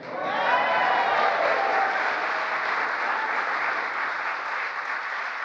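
Sustained audience applause at a political speech marking the anniversary of the Inflation Reduction Act, a dense steady wash of many hands clapping that stays loud throughout and eases slightly toward the end, with no talking over it.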